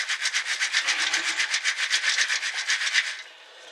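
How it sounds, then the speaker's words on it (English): Coarse all-purpose potting compost shaken through a garden sieve, a fast rhythmic rasping swish repeating for about three seconds before stopping, close and alone. "So we sieve that into it."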